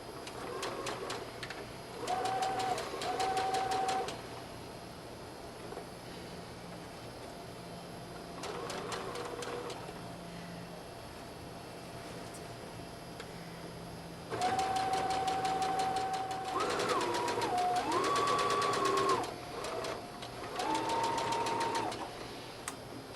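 A sewing machine stitches a dress skirt to its bodice in bursts of rapid mechanical whirring, close and steady, with pauses between runs and occasional higher whines.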